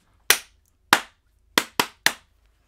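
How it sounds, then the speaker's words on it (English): Five sharp hand claps, sounding close and dry, spaced unevenly with brief silence between them. "Clap test."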